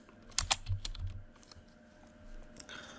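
A few quick, sharp keystrokes on a computer keyboard, followed by a quieter stretch with a couple of softer clicks and faint background hiss.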